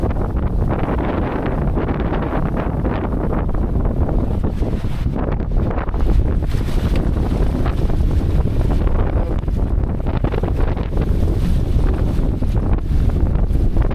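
Strong wind of around 30 knots buffets the microphone aboard a small gaff-rigged trailer sailer, a loud, continuous roar with gusty swells and faint water noise beneath.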